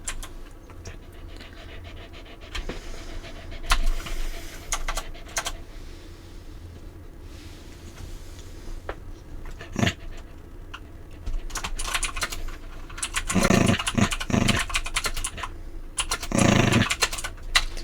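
A dog pants in quick, steady breaths at close range. Louder bursts of breathing or movement come in toward the end, with no talking.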